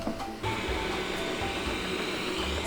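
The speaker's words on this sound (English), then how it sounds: "I will turn on my best friend here, the robot vacuum that has been the savior of my life. Start vacuuming." A robot vacuum cleaner runs across a home floor with a steady, loud motor whir and broadband brush hiss, starting up briefly in the first half second and then droning continuously without talk.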